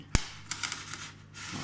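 Utility knife blade slicing through packing tape and cardboard on a parcel, a sharp snap near the start followed by a run of soft scraping and cutting strokes, close and moderately loud, no talking.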